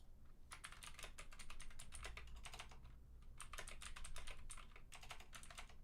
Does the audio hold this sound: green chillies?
no